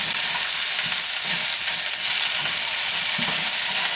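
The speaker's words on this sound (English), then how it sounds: "stir this around right away so that everything gets coated with some of that oil" Chicken, vegetables and mushrooms stir-frying in oil, a constant close sizzle with soft rhythmic scraping and stirring of the pan underneath.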